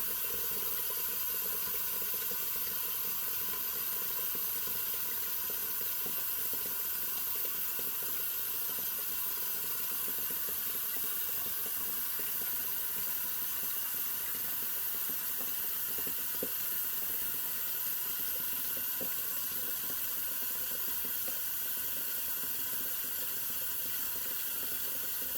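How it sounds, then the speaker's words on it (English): A water tap runs steadily into a sink during a head shave, a constant even hiss of flowing water heard alone for the whole stretch without speech. "I apologize for the sound of the running water, but it will only take a minute"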